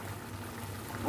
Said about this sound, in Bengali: অল্প করে জল দেবো।